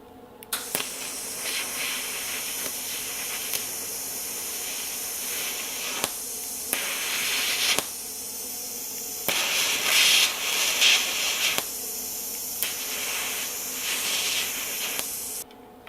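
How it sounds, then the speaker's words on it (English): Welding a nut onto a washer over a broken bolt produces a steady, loud hissing crackle that runs in several long bursts, with brief pauses between arcs and no voices. "Then what I'll do is I'll weld the nut to that washer, and then I'll turn it out."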